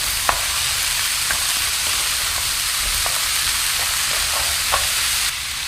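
Frozen bell peppers and Brussels sprouts fry in a pot and get stirred, giving a steady, close sizzle with occasional soft scrapes and clicks from the stirring utensil.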